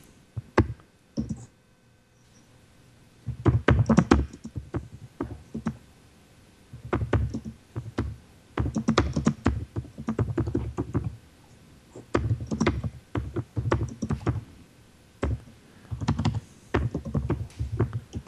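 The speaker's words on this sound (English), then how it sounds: "he's got a computer that he's typing his response and it gives it to us" Irregular bursts of clicking and tapping, like keys being typed on a computer keyboard, come in clusters with short pauses between them, fairly close.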